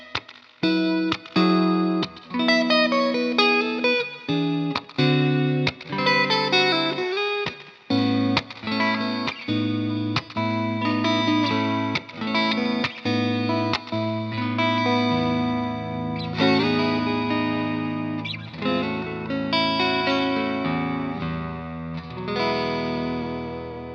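A distorted Gusta GST-05 electric guitar on its bridge pickup plays a busy riff mixing two-string chords and single notes, bright and continuous with some effects, no voices.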